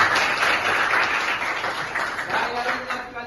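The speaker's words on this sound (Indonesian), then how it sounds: "kita berikan aplaus untuk semua kelas" Applause and clapping from several classes of students, a steady, dense patter filling the room for a few seconds, with some voices mixed in.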